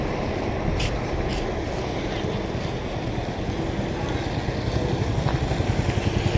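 A Kolhapur–Rona bus pulls out of Gokak bus stand, its diesel engine rumbling steadily and close by amid a busy depot's broad background noise, the throb growing slightly stronger toward the end.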